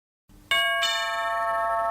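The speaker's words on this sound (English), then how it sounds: "The doorbell rang." A doorbell chimes once with a bright, ringing tone that sustains and slowly decays, loud and close, after a moment of quiet and a soft preceding noise.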